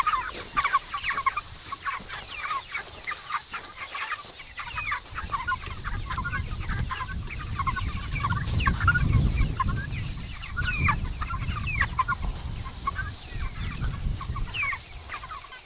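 Several chickens cluck and murmur steadily, a flock nearby being let out in late afternoon, with a low rumbling background swelling in the middle.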